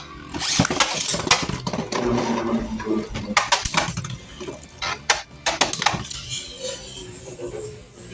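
Beyblade Burst tops, including Hyperion and Mobius-8, launched into a stadium and spinning in battle, with a whirring rip at launch followed by rattling clashes and sharp knocks of metal and plastic, and voices partly audible underneath.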